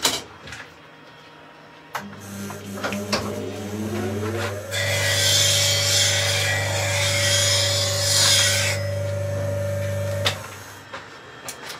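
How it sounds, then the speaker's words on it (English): A woodturning tool is sharpened on a CBN grinding wheel: a steady motor hum with a rising whine as the wheel spins up, then a bright, hissing grinding rasp for several seconds before the wheel runs down, close and fairly loud. "that's been sharpened on a CBN wheel"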